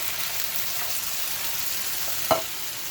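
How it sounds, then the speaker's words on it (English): Diced tomatoes are stirred into a sizzling meat mixture for Mexican-style zucchini boats, giving a steady frying hiss with one brief, sharper clatter of food hitting the pan partway through. "I'm going to add my tomatoes now to my meat mixture."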